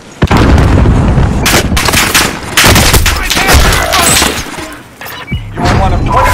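Call of Duty: Warzone gunfire crackles in loud, rapid bursts and shattering impacts, with automatic volleys and single shots that come and go over the in-game action.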